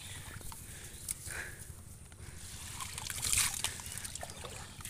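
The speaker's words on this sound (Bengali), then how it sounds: "এই যে কি সুন্দর পানি নামতেছে পুকুর থেকে" Rainwater trickling out of a pond past a fishing net after heavy rain, a faint continuous outdoor dribble with light splashes and some rustling movement nearby.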